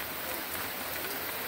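Steady rain falls on a rainy day while chicken broth is cooked outdoors, a dense even hiss with no talk.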